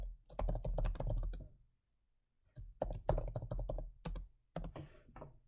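Keys clatter on a computer keyboard as a meeting title is typed, two quick bursts of close, crisp clicks separated by a short pause.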